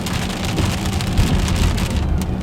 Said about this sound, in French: Un vrai tonnerre.